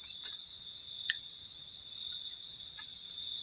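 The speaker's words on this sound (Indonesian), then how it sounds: "ketika malam suara jangkrik itu kenceng banget" Crickets at night while camping trill in a dense, continuous chorus, steady and moderately loud, with a few faint clicks and nothing else.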